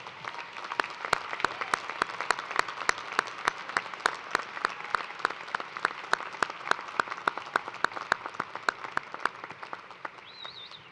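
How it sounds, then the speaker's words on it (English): Sustained audience applause fills a university commencement ceremony hall at the University of Toledo, a steady dense wash of clapping with sharp individual claps standing out throughout, holding at even loudness for the whole stretch. "Graduates, please join me now in a round of applause"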